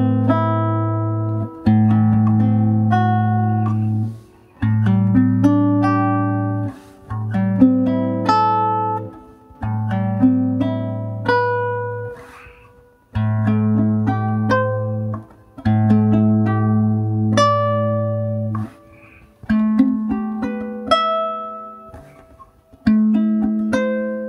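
A chord progression and melody in A Dorian played on a sustained, keyboard-like instrument, with held low bass notes under shifting upper chords and brief gaps between phrases, clear and solo with no talking.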